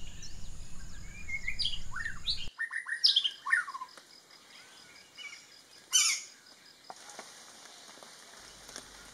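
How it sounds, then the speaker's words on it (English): Loud, high-pitched common flameback woodpecker calls ring out in quick bursts over a soft hiss, then a few scattered sharper notes follow more sparsely. "the common flameback has a very loud, high-pitched call"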